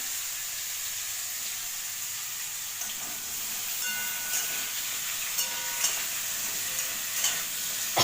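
Pumpkin, potato and pointed gourd fry together in a pan for a home dinner, giving a bright, continuous close sizzle with scattered crackles and light stirring clicks toward the end.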